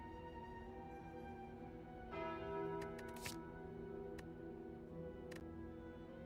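A tolling bell sounds in the Slay the Spire video game as the Calling Bell relic is taken. The bell strikes once with a long, ringing sustain, and a few soft ticks and clicks from the game follow. The whole passage is quiet.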